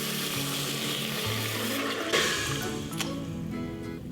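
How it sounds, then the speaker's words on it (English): Water poured from a cup into a hot Instant Pot Duo pressure cooker, a steady close splashing wash with a brief hiss near the middle as it hits the heated pot. "So I'm gonna put in about a cup of"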